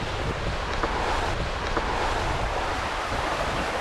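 Ocean waves and strong wind on the open sea about 1,200 nautical miles offshore, aboard a sailboat between the Galapagos and French Polynesia: a constant broad wash of surf and gusting wind noise with no voices.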